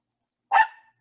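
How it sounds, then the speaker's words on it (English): A Chihuahua mix dog gives a single sharp bark, close and loud, followed by a brief faint yip. "It's my Chihuahua mix."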